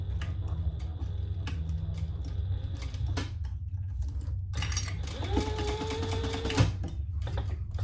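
A sewing machine stitches down the seams of a crossbody bag with quick ticking and tapping close by, followed by a louder whirring run of a second or so, with faint background noise and no talking.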